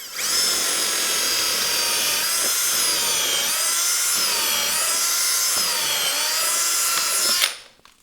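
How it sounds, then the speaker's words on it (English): A Harbor Freight Hercules cordless drill boring a hole with a 13/32 bit at speed 2, a loud, continuous whine that wavers in pitch under load and cuts off abruptly at the end. "So, we're gonna drill a hole, speed 2,"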